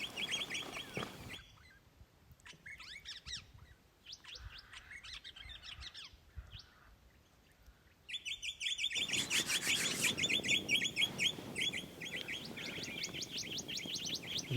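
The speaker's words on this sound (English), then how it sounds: "You can hear the bird life now" Birds chirp and tweet outdoors in the evening in short bursts, sparse at first, then a denser, louder chorus of calls takes over with a soft background hiss.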